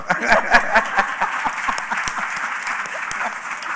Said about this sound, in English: And clapping for the audience as well.